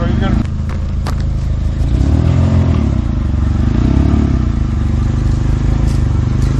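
A rough, knocking engine of a damaged 2000 Nissan Sentra idles and revs while the car reverses, with rattling clatter, smoke burning off the engine, and someone talking briefly over it.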